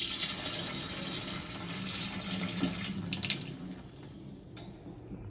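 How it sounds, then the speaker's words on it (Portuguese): Liquid pours steadily into a fermenter as honey and grape juice are added while brewing a grape braggot beer, a close continuous splashing rush of water-like flow with a few small clinks and no talking. "Então aqui nós vamos começar a transferir o mel para o fermentador, mel, suco de uva"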